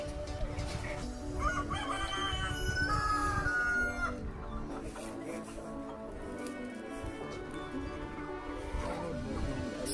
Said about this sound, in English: Chicks. Chicks. Chicks.